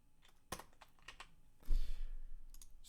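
Typing code on a computer keyboard: soft close clicks in a loose, uneven burst, then a heavier clatter of several keys near the end.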